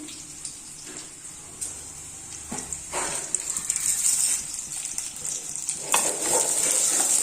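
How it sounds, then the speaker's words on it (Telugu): Onions fry in a pan alongside urad dal, chana dal, cumin and mustard seeds, giving a steady bright sizzle with occasional stirring scrapes and spits that grow louder toward the end, with no voices over it. "ఇదిగోండి ఈ ఉల్లిగడ్డలు వేగుతున్నాయి కదా"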